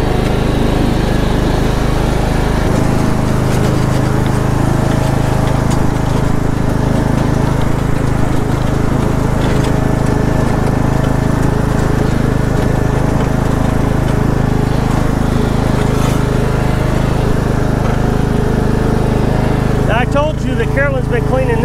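A lawn mower engine drones steadily and close, holding a constant loud hum throughout, with a brief rattling change near the end; the mower runs on batteries.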